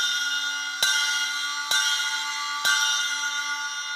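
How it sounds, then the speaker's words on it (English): A ride cymbal bell from a virtual drum kit is struck three times at a steady pace, each hit a loud, clear, bell-like ping with a sustained ringing tone that carries between strikes, close and alone. "Here we have our bell."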